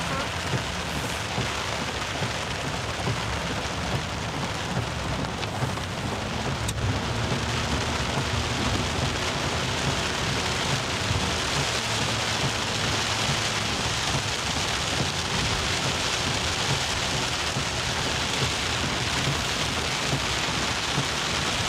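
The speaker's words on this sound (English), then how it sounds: "It's been raining like this for how long?" Heavy, unbroken rain pours down hard for an hour or more, a loud dense roar of drops drumming on surfaces that fills the whole stretch with no let-up.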